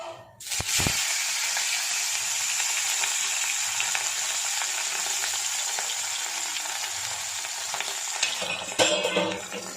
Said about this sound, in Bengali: এই দেখো আমি এখন মাছ ভাজবো